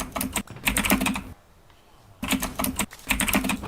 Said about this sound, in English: I can hear your keyboard.